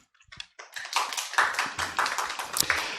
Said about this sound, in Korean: 장지연 교수님께 다시 한번 큰 박수를 부탁드립니다